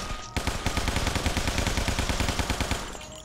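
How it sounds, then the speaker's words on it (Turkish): Machine gun fire in the video game Guns, Gore & Cannoli, a loud rapid burst of evenly spaced shots that starts abruptly and runs for about three seconds before stopping. "Ya makineli tüfek neredeyse hiç vurmuyor ya."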